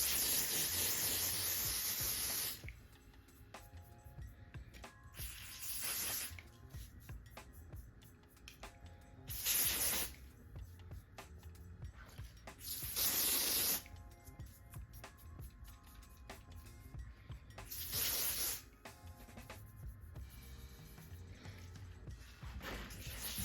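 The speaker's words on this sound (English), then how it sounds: "And then I also got the freeze spray." Freeze hair spray is sprayed in several separate bursts of hiss, each a second or two long, spaced through a quiet indoor setting with no talk in between.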